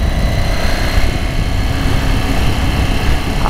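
A mint 2006 Ducati Paul Smart 1000 on old tires, ridden hard and shifting up through its gears, gives a loud, steady, close engine roar with a dense low rumble and no break across the clip.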